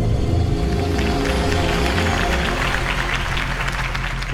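A crowd applauds a campaign speech by Harvey Dent in Batman: The Telltale Series. The clapping is steady and sustained over a low, rumbling music bed, loud and close throughout.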